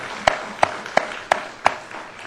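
A church congregation at a thanksgiving Sunday service claps in unison, five sharp, evenly spaced claps ringing out close and clear over a quiet room.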